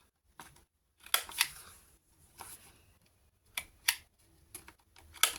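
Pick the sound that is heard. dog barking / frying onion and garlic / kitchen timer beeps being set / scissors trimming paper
scissors trimming paper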